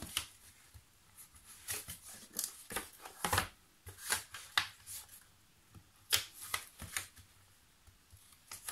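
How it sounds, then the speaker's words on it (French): Paper folded with a bone folder, heard as quick, close, crisp rustles and creases in an irregular rhythm, fairly quiet, with no speech. "Je vais venir plier le petit bout là qui dépasse."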